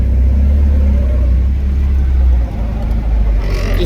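Drift car with a VQ engine swap, full cage and tube front, rumbling loudly and steadily at close range while reversing at low speed, the tone dipping slightly near the end.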